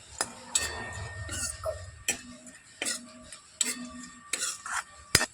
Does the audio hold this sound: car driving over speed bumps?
no